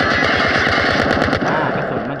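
Rapid automatic fire from an ICR-1 rifle in Call of Duty Mobile, a loud, dense burst of evenly spaced shots running nearly the whole time, tapering off near the end.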